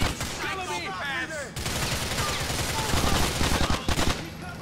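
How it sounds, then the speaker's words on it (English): Rapid bursts of gunfire in Grand Theft Auto IV: The Ballad of Gay Tony rattle continuously and loudly under dense game noise, with voices talking over the shooting. "Who's shooting that gun at me?"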